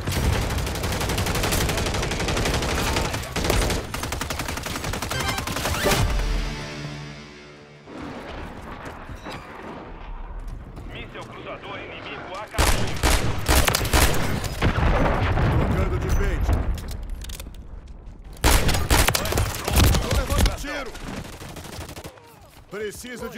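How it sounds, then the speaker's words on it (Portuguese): Dense gunfire in Modern Warfare 3 arcade play, with bursts of rapid automatic shots and booming impacts that surge, drop into a quieter stretch, then return loud and close. "Porra, estão atirando em mim!"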